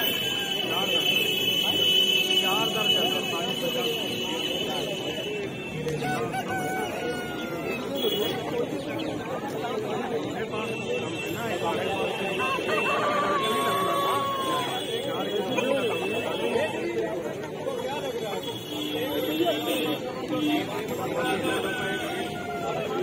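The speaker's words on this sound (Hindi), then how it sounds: "देखिए मुर्गा" Chickens cluck and roosters call amid a busy, noisy chicken market in Lucknow, with people talking throughout and steady crowd chatter.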